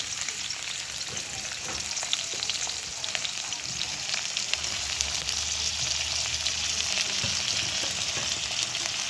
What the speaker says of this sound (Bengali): তেল গরম হচ্ছে, তেলেতে পেঁয়াজটা দেবো